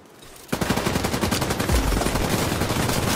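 Sustained rapid automatic gunfire in a PS5 shooter game, a dense continuous rattle that bursts in loudly after a quiet half-second and keeps going to the end.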